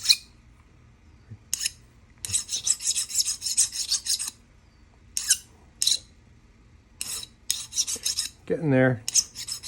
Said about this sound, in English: finishing off the filing